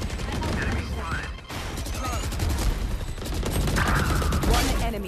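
Rapid video-game gunfire crackles in dense bursts throughout, loud and continuous with layered shots and game effects.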